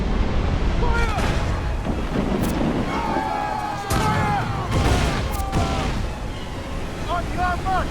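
Cannon and mortar fire in Assassin's Creed 4 Black Flag at sea: repeated heavy blasts and rumbling booms over constant wind and water noise, with shouted voices between shots.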